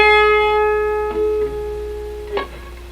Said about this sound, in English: I'm going to do a half step bend.